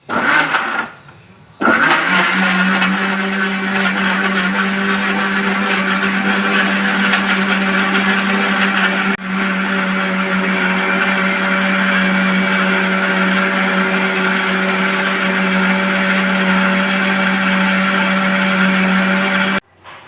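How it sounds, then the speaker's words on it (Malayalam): A mixer grinder blends muskmelon with condensed milk and sugar, a loud steady motor whine running almost without a break for the whole stretch after a brief quiet start, with no voices. "എന്നിട്ട് മിക്സിയിലിട്ട് അടിച്ചെടുക്കാം"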